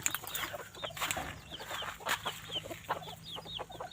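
Short-legged bantam chickens, hens and roosters, clucking and chirping repeatedly in quick overlapping calls at close range, with a faint background hum.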